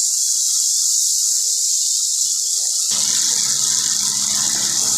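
Water gushes steadily into a cooking pan for several seconds, with the rushing pour growing fuller and louder partway through, with no one talking.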